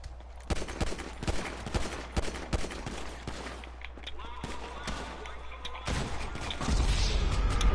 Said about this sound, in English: since y'all using guns, I'm using guns now